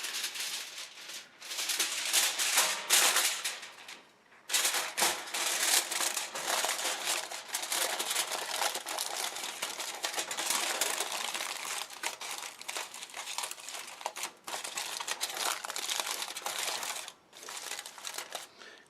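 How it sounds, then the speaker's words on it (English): Aluminum foil crinkles and crumples in quick, irregular bursts close by as it is laid under a spiral-twist ice-dyed tie-dye piece, with short pauses between handling sounds and no talking. "I'm also going to put foil under it."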